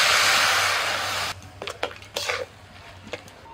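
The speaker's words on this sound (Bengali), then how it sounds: "এবার আমি একটু সিদ্ধ হওয়ার জন্য অল্প করে জল দিয়ে দিচ্ছি" Water poured into a pan of fish roe frying in spices sets off a loud, steady hiss that cuts off abruptly, followed by scattered clinks and scrapes of a utensil against the pan.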